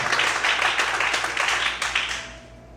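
Church congregation clapping in praise during a sermon, a brisk, rhythmic burst of many hands at moderate distance that thins out toward the end.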